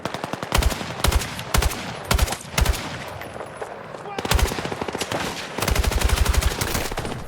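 Rapid bursts of machine gun fire from Battlefield 6 crackle loud and close in repeated volleys, with a voice speaking faintly underneath.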